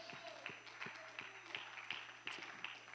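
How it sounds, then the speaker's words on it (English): Church congregation clapping hands in praise during a sermon: a steady series of sharp claps, roughly two per second, moderately loud, with faint crowd murmur in the background. "let's give the Lord a hand clap of praise"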